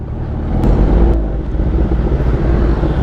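Road traffic in Dagupan in the rain gives a close, steady low rumble of idling and slow-moving vehicles, with a couple of brief sharp clicks.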